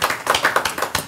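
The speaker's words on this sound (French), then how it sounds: "Merci, on s'applaudit." A studio audience claps together on a television programme, a dense run of hand claps with uneven peaks lasting about a second, close and moderately loud with no talking over it.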